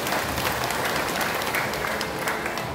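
An audience at a barangay assembly applauding the police chief, a dense, loud, continuous wash of many hands clapping throughout, with no talking.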